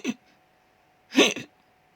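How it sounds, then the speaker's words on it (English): A cartoon character hiccups twice: a short, sharp gulp and then, after a pause, a louder hiccup with a small catch at the end, close and clear over near silence. "After a while, Gogo's hiccups still didn't stop."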